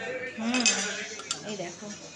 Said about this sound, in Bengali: চামচ দিয়ে ধরার সাথে সাথে চিকেনটা পুরো ছিঁড়ে গেল।